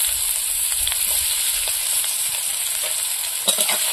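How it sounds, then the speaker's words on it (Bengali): Chopped onion fries in hot oil with whole cumin in a pan that has just fried eggs, giving a close, continuous sizzle with scattered crackles and a clatter of stirring near the end. "এবার পেঁয়াজের কুচি দিয়ে দেবো।"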